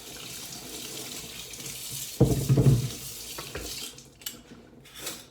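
Tap water running into a sink as vegetables are rinsed, a soft background trickle that swells into a loud close gush for about a second, then eases back to a quieter flow with light splashing and handling noises.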